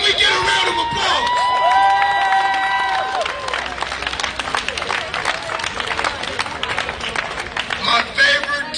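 At a Black Lives Matter street protest in Portland, Oregon, a crowd breaks into sustained applause and cheering, with whoops and shouts layered over dense clapping that carries on for several seconds.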